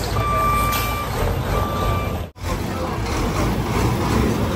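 A big truck reverses at a busy ferry crossing area, its steady reversing beeps sounding clearly over loud engine rumble and traffic noise, with a brief dropout midway.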